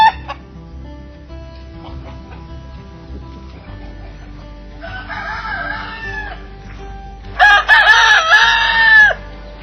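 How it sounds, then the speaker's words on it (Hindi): Three roosters crow loudly nearby at a resort near Gurugram, in two long calls, with softer clucking and fowl noises before them. "ये तीन मुर्गे क्या कर रहे हैं?"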